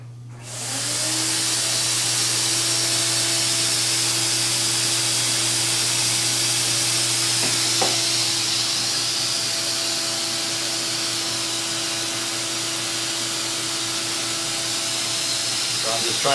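A hot wire foam cutting table's vacuum suction motor roars steadily and loudly up close, a constant droning hiss with a steady hum underneath, a brief click midway.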